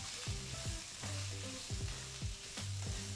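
Vegetables sizzle in oil in a pan for a Kenyan Christmas lunch, a steady bright hiss with repeated scraping strokes of a utensil stirring at a quick rhythm, close and without speech.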